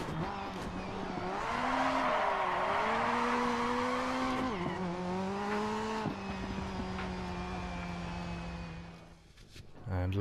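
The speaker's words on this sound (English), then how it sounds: "the beautiful, beastly, godlike Lancia Delta S4. This thing shoots off the line like a rocket" A Lancia Delta S4 Group B rally car in the video game DiRT 4 roars through high revs, the engine note climbing and dropping through gear changes, loud and continuous with gravel noise underneath.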